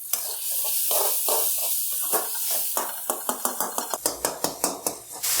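Tomatoes cook in a pan for a restaurant-style chicken masala gravy, giving a steady sizzle and hiss with a run of sharp metallic clinks from a spoon scraping and stirring against the pan, quickening toward the end.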